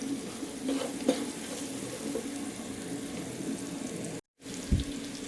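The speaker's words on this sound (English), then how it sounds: "Just stir that for a minute and let it cook down kidogo, and let also the beef cubes cook down a bit." Beef cubes simmer on low heat in a pan, giving a soft steady bubbling sizzle with faint stirring scrapes, briefly cut to silence near the end.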